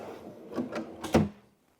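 A wooden workbench drawer slides along full-extension slides, giving a few short rolling rumbles and a firmer bump near the end before the sound stops, close and fairly quiet.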